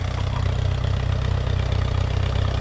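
A tractor motor runs steadily in a sorghum field, a low, even rumble with a regular chugging pulse, fairly close and moderately loud, with no voices over it.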